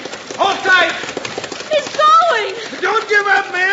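Galloping horse hooves as a radio drama sound effect in a Western story, with rhythmic clip-clop beats running under loud, urgent voices.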